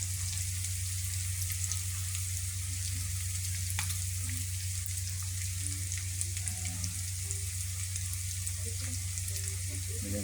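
Onions sizzling steadily in a frying pan, a continuous close crackle and hiss with a low constant hum underneath and scattered faint pops, no talking.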